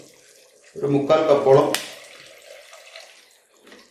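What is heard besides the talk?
vinegar being poured into a pan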